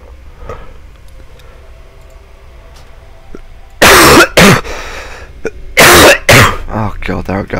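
A person coughs hard several times in close, loud bursts: two near each other, then a pause and another pair, over a quiet room with faint background sounds.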